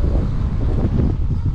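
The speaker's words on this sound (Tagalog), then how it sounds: "Lakas na hangin." Strong, cold wind buffeting loudly and continuously on a foggy mountaintop, a dense low roar rushing across the microphone with no letup.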